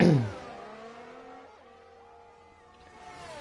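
An F1 race car engine screams through Curva Grande at Monza, its pitch climbing in a steady rev with quick gear shifts before pulling hard again, loud and close with no voices.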